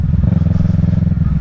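Deep, throbbing idle of a 2023 Kawasaki Ninja 650 fitted with a Yoshimura Alpha exhaust, loud and close with a steady pulsing burble throughout.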